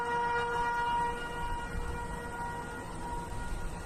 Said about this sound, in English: You can hear the sirens going off over there.